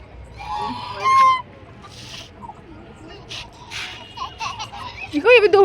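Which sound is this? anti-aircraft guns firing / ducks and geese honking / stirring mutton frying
ducks and geese honking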